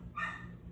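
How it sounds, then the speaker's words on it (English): A single short, faint dog bark in the distance, heard once over a quiet indoor background. "There goes the dog again."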